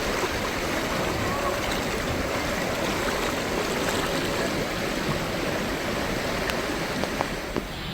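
Floodwater after heavy rain in Maharashtra rushing in a swollen stream, a loud, constant broadband roar of flowing water heard from close by with no break.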